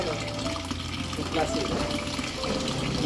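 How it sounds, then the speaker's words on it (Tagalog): Clear water rushes and splashes steadily from a water pump, with a low mechanical hum underneath, while people talk nearby. "Water pump? O, water pump."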